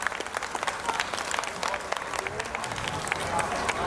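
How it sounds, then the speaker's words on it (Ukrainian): Applause for prize winners at a Ukrainian Days Festival, a crowd clapping steadily outdoors with scattered voices and chatter mixed in, moderately distant. "Оплески!"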